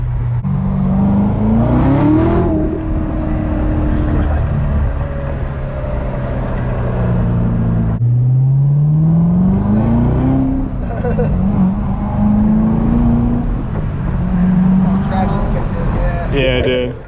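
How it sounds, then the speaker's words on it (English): A Corvette C7 Z06 with a manual gearbox revs hard at night, its engine note climbing through two gear pulls with a shift between, loud and close from inside the car with a voice speaking over it. "Just got done driving the Z06."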